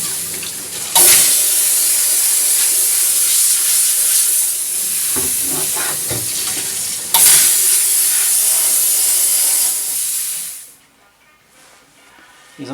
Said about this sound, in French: on peut donner un petit coup de jet vapeur